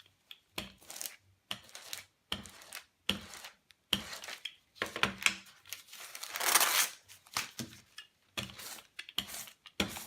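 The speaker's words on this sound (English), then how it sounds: "take the roller and just roll off any excess ink" Ink roller rolled back and forth over scrap paper to shed excess ink, giving a rhythmic sticky crackle and peeling texture in repeated strokes, close and fairly quiet.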